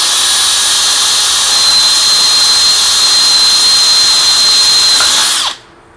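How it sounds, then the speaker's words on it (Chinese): A Makita DHP481 cordless drill in drilling mode, second gear, bores with a 10 mm wood bit: a loud, steady high whine that holds for about five seconds, then cuts off abruptly. "10米里木工钻头 ，DHP 481，钻孔模式第2档。"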